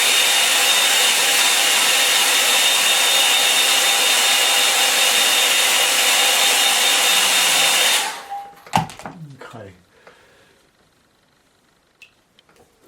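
A hair dryer blowing on a painting, a loud steady whooshing hum for about eight seconds, then switched off, followed by a few handling clicks and knocks in near silence.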